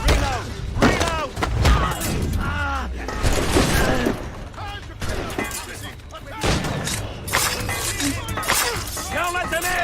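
A chaotic volley of musket fire during a battle in Assassin's Creed Rogue, with repeated cracks and impacts under constant shouting voices and background clatter.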